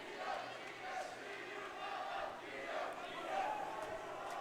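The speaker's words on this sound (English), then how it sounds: "our Bulldogs are cheering on the Mahomet Bulldogs" Spectators at a high school volleyball match, Champaign Central at Mahomet-Seymour, cheer on the Mahomet Bulldogs with a loud, rolling crowd roar and shouts that swell and dip throughout.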